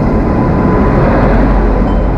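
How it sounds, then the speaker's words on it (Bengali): The Sealdah–Jalpaiguri Road Express rolls into a station with a loud, continuous broad rumble of wheels and carriages, close by and steady throughout. "এই যে ট্রেন আমাদের ঢুকছে"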